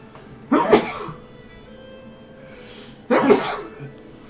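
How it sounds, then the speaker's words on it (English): Two sharp, explosive sneezes a few seconds apart, close and loud against a quiet background. "There's our morning sneeze."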